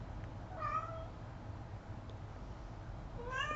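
A house cat meows twice indoors, one short call near the start and another at the end, moderately close over a steady low background hum.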